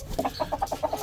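Hens clucking in short repeated bursts while being fed grain, a steady rhythmic series of soft clucks close by.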